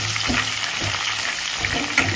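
Green chillies frying in hot oil for chitranna, a dense steady sizzle with faint crackles and spatters, loud and continuous for the whole stretch with nobody speaking.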